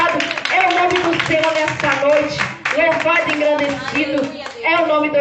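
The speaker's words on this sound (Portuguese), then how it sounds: "Dá uma linda salva de palmas para o Senhor nessa noite, então." A congregation claps at an evening church service, the clapping steady and continuous under a loud, resonant voice that keeps speaking over it.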